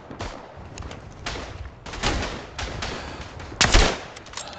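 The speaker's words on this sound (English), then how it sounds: "And we're getting shot." Gunfire in the World War I shooter game Verdun, bursts of rifle and machine-gun shots cracking in uneven clusters with a sharp, loud near shot toward the end over a constant battlefield hiss.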